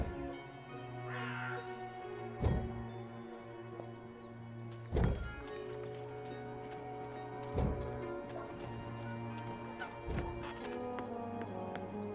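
A crow in the game Dreamfall Chapters caws repeatedly, harsh and raspy calls recurring every couple of seconds, fairly near, over a steady ambient drone with occasional heavier thumps.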